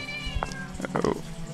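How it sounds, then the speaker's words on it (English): A cat meows several times in a dark scene of the horror video game Mad Father, short mid-pitched cries over steady game ambience with a person talking over them. "Oh, was that a cat?"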